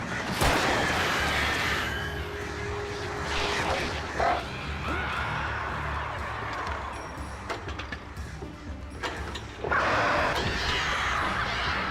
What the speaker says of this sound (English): Oh, birds arrive.